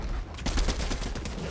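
Gunfire in the video game Fortnite: a rapid burst of close, loud shots cracking in quick succession, rattling on without any speech.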